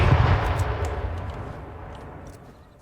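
A grenade blast in the battle-royale video game H1Z1 during an arena championship match: a loud, booming explosion with a rumbling tail that fades over a few seconds, plus a few faint distant pops of gunfire.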